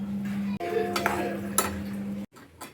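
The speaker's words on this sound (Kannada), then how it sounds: "ಇವಾಗ ನಾನು ಚಿರೋಟಿ ರವೆನ ಹುರ್ಕೋತಾ ಇದ್ದೀನಿ." Chiroti semolina roasting in leftover ghee over a low flame, stirred with a metal spoon that clinks and scrapes against the pan over a faint steady hum, with brief breaks in the sound.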